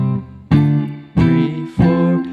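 Three sustained guitar notes ring out one after another, each plucked cleanly and left to decay, stepping up the neck through a major scale at a moderate, even pace with no talking.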